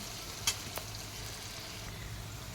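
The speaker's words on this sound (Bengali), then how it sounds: "হলুদের গুঁড়ো আর নুন দিয়ে আমি ভালো করে এটাকে ভেজে নেব" Food fried with turmeric powder and salt in a pan for a vegetarian papaya dish with lentil nuggets, giving a faint steady sizzle with a brief sharp clink near the start and a soft tap after.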